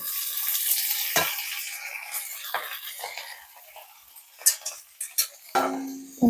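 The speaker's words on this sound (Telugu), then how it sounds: "శనగకూర వేసి మంచిగా కలుపుదాం" Chickpea greens are stirred into an eggplant curry in a pan for a traditional Telangana dish, giving soft scraping and a gentle sizzle, then a few sharp spoon clinks and knocks.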